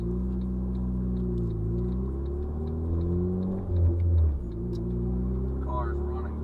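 Turbocharged car engine with a new motor running at around 15 psi of boost, a steady low droning hum with a brief louder surge midway, heard from inside the car.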